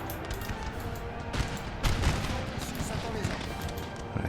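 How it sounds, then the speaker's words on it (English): Musket volleys in Napoleon: Total War with the Darthmod mod: a continuous crackling wash of massed fire with a louder burst midway, heard under someone talking. "Just shoot them. That's what they give you rifles for, or muskets for."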